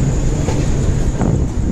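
A passenger train on the Chambal Express journey rolls past, giving a steady, loud rumble with wind noise and a constant high whine throughout, with no break in the sound.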